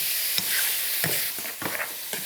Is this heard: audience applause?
no